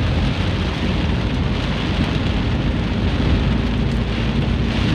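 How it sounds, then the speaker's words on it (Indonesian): Heavy rain drumming steadily and loudly on a vehicle while it drives the main road from Semarang to Salatiga, a dense constant roar with no pauses and no talking. "Hujannya cukup lebat."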